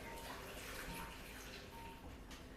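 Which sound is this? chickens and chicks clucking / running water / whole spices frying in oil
running water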